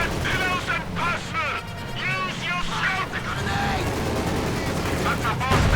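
Submachine gun bursts from conscript squads in Company of Heroes 2 crackle through dense wartime battle ambience, steady and mid-distance, partly under a commentator's ongoing talk.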